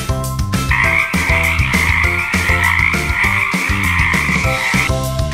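A chorus of frogs croaks loudly and steadily nearby, with repeated raspy pulses laid over a continuous high trilling hum and no talking.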